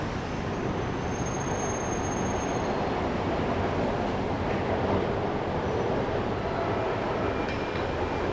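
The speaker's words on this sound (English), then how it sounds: "There goes the SkyTrain." A Bangkok SkyTrain passes on its elevated line in the Sukhumvit district, a steady, loud rumble of rail cars that fills the whole stretch over city street noise, with no talking.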